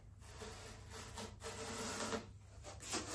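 A styrofoam sheet is cut in a straight line by hand for a homemade fireplace, giving close, steady rasping and scraping strokes in several bursts with short pauses.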